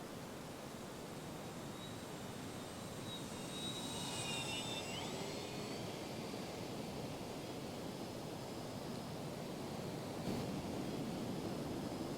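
An FMS Pitts 1400mm electric RC plane flies over a beach, its thin high motor whine rising and falling faintly above the steady roar of surf and wind.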